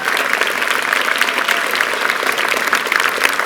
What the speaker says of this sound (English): Graduates, give these guys a massive round of applause.